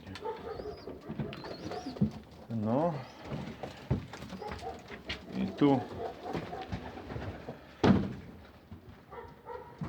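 Pigeons coo in repeated rolling phrases close by inside a loft, while someone speaks briefly and a few wingbeats or shuffles sound in the background.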